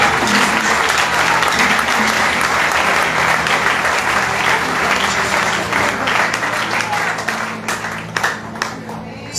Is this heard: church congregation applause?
yes